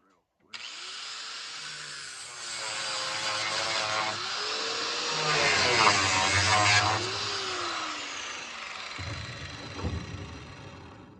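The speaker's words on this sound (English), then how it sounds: "Let me run my grinder on that real quick" Angle grinder cutting through copper pipe salvaged from a water fountain being scrapped, a loud sustained high whine rising and shifting in pitch as the disc bites the metal, for about ten seconds with no talk.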